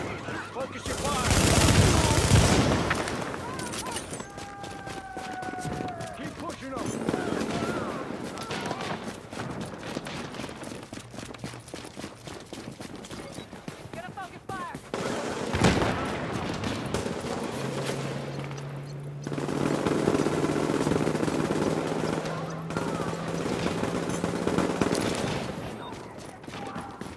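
Rapid automatic gunfire in Tom Clancy's The Division, Last Stand mode on PlayStation 4, crackling in dense bursts with scattered pops and game effects, loud and close throughout, with a voice heard over parts of the firefight.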